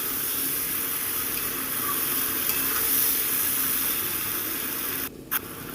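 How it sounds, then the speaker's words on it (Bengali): Potato and pumpkin frying with spices in a pan give a steady, close hiss of sizzling oil that runs nearly unbroken, with a brief dip and a light knock near the end. "আলু কুমড়ো একসাথে আমি মশলার সাথে সুন্দর করে কষিয়ে নেবো"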